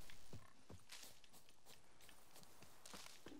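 Faint horse hoofbeats in The Witcher 3: Wild Hunt clip-clop in an irregular rhythm over a soft background hum, with no talking.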